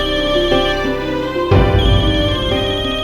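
A mobile phone ringtone plays loudly and close in a domestic TV drama scene, a steady melodic tune that swells fuller halfway through, with no talking.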